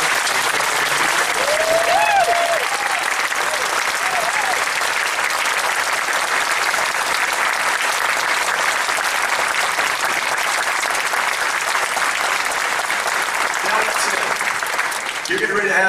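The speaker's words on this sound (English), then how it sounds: "if we'd all literally give a round of applause for that family" Sustained, loud applause from a large audience at a SeaWorld Orlando show fills the space for the whole stretch, dense and even, with faint voices mixed in.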